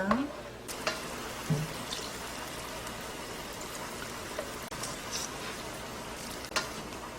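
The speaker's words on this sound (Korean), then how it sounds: "양념한 고기를 올려서 구워주세요." Soft, steady sizzling of a seasoned meat hamburger patty frying in a pan, with a few faint clinks and scrapes of a utensil.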